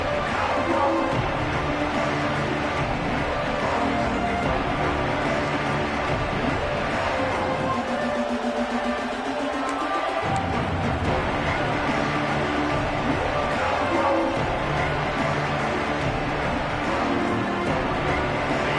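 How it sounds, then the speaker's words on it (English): American football stadium crowd at the Arizona State versus Auburn game, a constant broad roar of thousands of fans that swells and holds with little pause, with a commentator talking over it. "This crowd ready to make its presence known."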